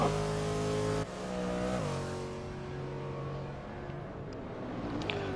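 GT3 race car engines in a racing video game, a Corvette among them, hold a steady loud roar with shifting pitch, a sudden gear change near one second and further drops as the revs fall through corners, with no talk.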